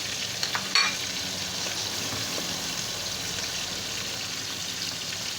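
A tomato puree and spice masala for chicken changezi is sautéed over low heat in a pot, giving a steady, even sizzle with a brief clink of a spoon near the start.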